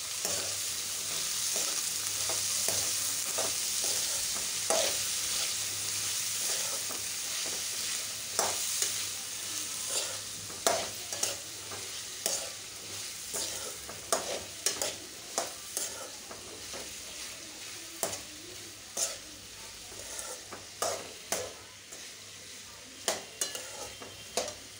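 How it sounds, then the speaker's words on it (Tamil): Cauliflower and other vegetables sauté with a quiet, continuous sizzle while a spoon scrapes and knocks against the pan in a steady, repeating stirring rhythm close by. "இப்போ காலிஃப்ளவரு, இது எல்லாத்தையும் நல்லா வதக்கிக்கணும்"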